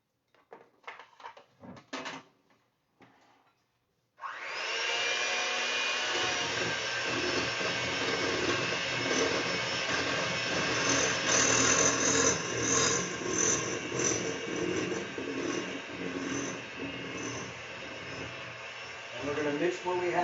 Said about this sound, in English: And then we're going to take our mixer.